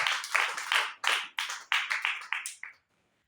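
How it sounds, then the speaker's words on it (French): A church congregation claps briefly in a burst of a dozen or so fairly quiet, uneven claps that stop abruptly, with no talk over them. "Applaudis pour le Seigneur."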